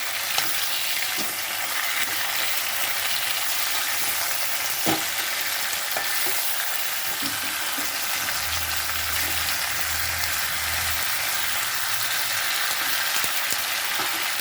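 Flat beans sizzle steadily in a pan over high gas in a mustard-kasundi bean dish, with scraping stirs and a few sharp clinks cutting through the constant broadband hiss.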